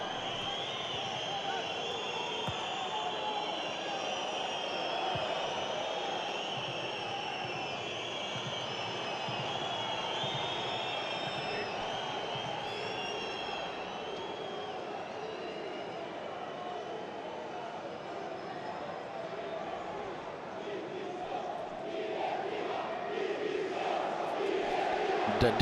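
A disappointed football crowd fills Riazor stadium after Elche score a third goal against Deportivo, a dense, sustained roar and murmur of thousands of voices, steady throughout and swelling slightly at the end.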